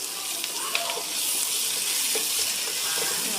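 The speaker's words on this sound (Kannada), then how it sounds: "ಇದನ್ನು ಮೀಡಿಯಮ್ ಊರಿನಾಗ ಹುರ್ಕೊಂಡು" Chillies, onion, curry leaves and garlic frying in oil over medium heat, a steady close sizzle with a few faint clinks from stirring.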